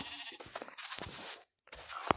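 A few short bleats from sheep or goats in Minecraft, with pauses between calls and a brief silent gap.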